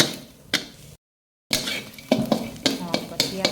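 Shallots and garlic fry in a pan with a steady sizzle, and a utensil scrapes and stirs in several bursts, broken by a brief silent gap.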